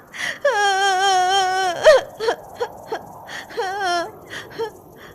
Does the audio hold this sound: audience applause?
no